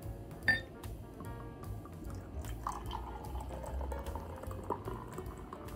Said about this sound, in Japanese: はい、じゃあついでいきます。